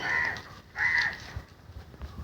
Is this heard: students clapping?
no